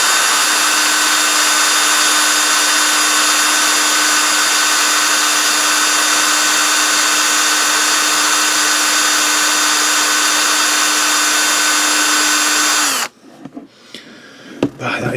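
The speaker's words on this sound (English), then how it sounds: "oh, it's still drilling" A power drill bores through the thick plastic of a Sony HDR-AS300/FDR-X3000 waterproof camera case, a loud, steady whine held for about thirteen seconds before cutting off into faint handling noises.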